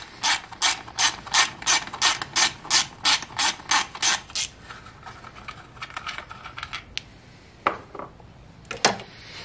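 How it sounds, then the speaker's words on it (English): Rapid, evenly spaced ratchet clicks ring out loud and close as a 10mm bolt is loosened from a Subaru 2.5L engine cover, followed by a few scattered metallic clinks. "So I'm going to go ahead and remove this cover. And same 10mm bolt."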